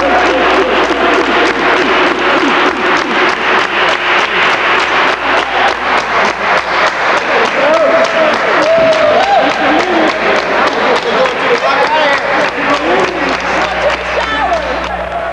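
A crowd at a recreational volleyball game in Sondrestrom, Greenland claps and cheers steadily throughout, a loud, sustained wash of applause with a few voices calling out among it.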